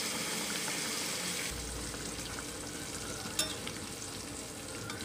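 Pangas fish fries in a pan with a continuous close sizzle that swells in intensity partway through, with one brief clack of a utensil.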